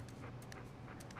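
A dog in the game Uncharted 4 pants and whimpers softly. The sound is low, close and steady, with brief higher whines over a constant background.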